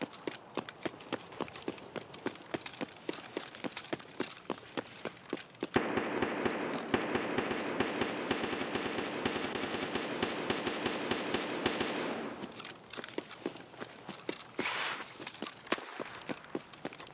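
Rapid gunfire crackles in Escape from Tarkov as a stream of sharp, evenly spaced shots runs throughout, turning into a denser, heavier burst in the middle before thinning out again.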